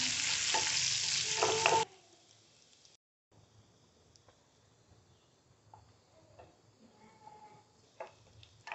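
A small chopped onion sizzles and crackles loudly in a hot pan for under two seconds, then cuts off, leaving near silence broken only by faint scattered ticks and clinks.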